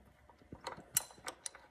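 A hand wrench works a 1/2-inch bolt on a 1969 John Deere 112 garden tractor, giving faint, close ratcheting clicks and metallic ticks in an irregular series.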